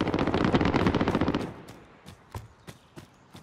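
Automatic weapon fire in Call of Duty Warzone, a loud rapid burst for about a second and a half, then several spaced single shots trailing off.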